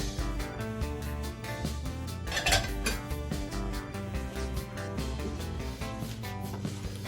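Lettuce, tomatoes, carrots and beets for a Cajun lobster salad are tossed in a bowl, with quick repeated clinks and knocks of utensils against the dish close by and no talking.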